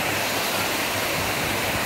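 Water flows loudly and continuously near the Vashistha temple, a dense, even rushing roar with no voices.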